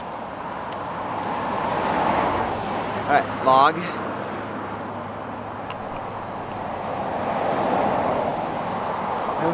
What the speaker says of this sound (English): I just had like 25 cars just drive by